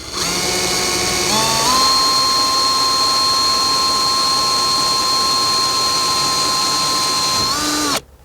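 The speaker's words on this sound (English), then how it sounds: "now we're going to drill a small pilot hole just to make sure that there's no rafter there" Drill spinning up and boring a small pilot hole up through a wooden ceiling, with a high steady whine held for about six seconds before spinning down, loud and close, with no speech.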